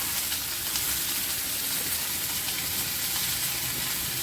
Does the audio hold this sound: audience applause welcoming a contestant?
no